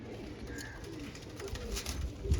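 Breeder pigeons coo softly and steadily in the background, with low murmuring calls that continue throughout and no voices in the foreground.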